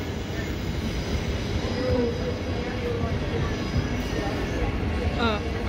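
Train pulling in at platform 9 of a station, a steady low rumble of rolling wheels with a brief squeal near the end, with people talking nearby throughout.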